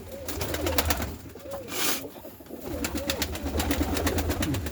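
Domestic pigeons coo softly and repeatedly, several birds close by, their low burbling calls overlapping amid faint flapping and rustling.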